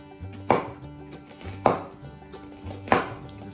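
A knife chops onions on a cutting board in three sharp, evenly spaced strikes. The chops are close and clear, with a quiet kitchen hum between them.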